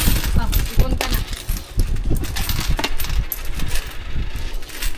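Saved centavo coins poured and counted by hand, a dense continuous metallic jingle and clatter of many small coins close up, with brief pauses in the shuffling.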